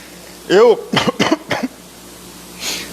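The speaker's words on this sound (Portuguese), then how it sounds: "por isso que eu estou tossindo um pouco" A single sharp cough followed by a few shorter throat-clearing coughs from someone recovering from a viral illness, close and fairly loud, then quiet.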